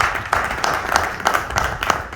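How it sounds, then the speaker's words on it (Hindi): An audience at a financial literacy seminar claps briefly in a loose, scattered pattern, with individual hand claps audible as separate bursts over a hall-like background rather than a dense roar. "ताली तो हो सकती है इस बात पे।"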